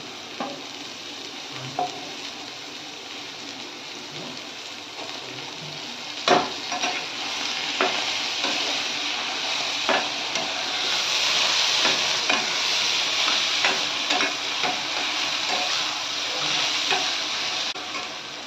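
Onion, green chili and tomatoes fry together in a pan for egg bhurji, giving a constant close hiss and sizzle. Scattered clicks of a spoon stirring come through, and the sizzle swells slightly partway through. No talking.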